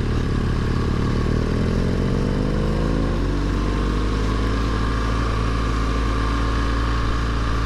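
Motorcycle engine droning steadily at low speed in first gear while climbing Dolomites hairpin bends, loud and close, with a rising then settling pitch as revs change.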